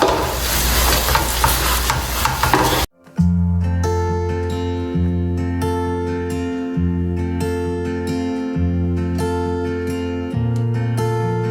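A brief burst of sizzling and scraping as ingredients for oranda puffed-grain snacks stir-fry in a pan, then a loud stretch of music with steady repeated notes takes over.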